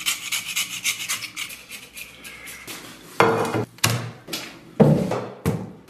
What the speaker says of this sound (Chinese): 把肘子上边的这黑皮给它刮洗干净